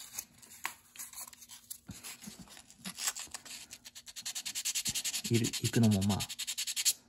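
Close, dry rasping of a file worked over a small carved wood netsuke, with steady back-and-forth strokes that grow louder and more rhythmic toward the end, brief speech heard early on.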